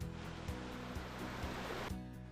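A waterfall near Chiang Mai, Thailand: steady rushing water roars continuously, a dense full-bodied wash of falling water heard up close with no voices.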